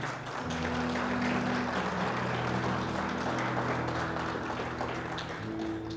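A church congregation claps steadily and continuously at moderate distance, a dense wash of hand claps with a low hum underneath.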